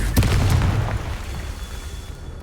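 A Confringo blasting-spell explosion in Hogwarts Legacy on Xbox Series X: a sharp crack, then a deep rumbling boom that fades over about two seconds, loud and close with no speech.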